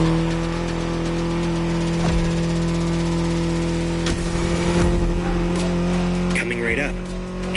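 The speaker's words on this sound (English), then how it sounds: "Back with the BMW M4 Liberty Walk Edition." BMW M4 Liberty Walk Edition in The Crew Motorfest, a steady loud engine drone held throughout with brief tire scrubs and shifts layered on top, under game sounds.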